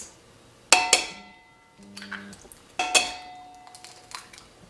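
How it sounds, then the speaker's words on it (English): Two eggs go into a bowl, with sharp clinks and knocks of shell against the rim and then softer tapping and scraping as the mix starts, each burst short and close. "Okay, I'm gonna add in 2 eggs to this."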